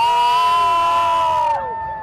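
A crowd at a national event in Russia cheers and shouts, a dense sustained roar of many voices that cuts off sharply near the end.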